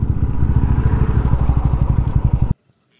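A motorcycle engine running steadily and loud up close for about two and a half seconds while the bike is parked at the roadside, then cutting off abruptly into near silence.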